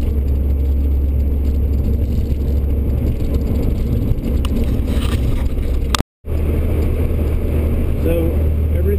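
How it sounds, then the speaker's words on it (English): A car engine runs at steady revs during a rev-match downshift, giving a loud, continuous low drone inside the cabin that cuts out for a split second before resuming. "So right in the middle of your shift, you just give the motor a little blip, which is just bringing the RPMs up a little bit"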